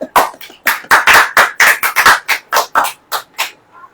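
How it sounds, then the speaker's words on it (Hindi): A church congregation at a worship meeting claps in a brisk, steady rhythm, about a dozen sharp, close claps in quick succession, with a faint trailing sound at the end. "ताली नहीं बजाएंगे?"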